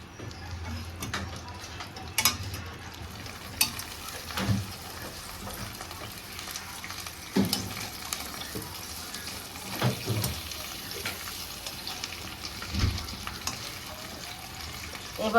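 Bhetki fish paturi frying in a pan, with a steady low sizzle and occasional knocks and scrapes as it is flipped, without talking.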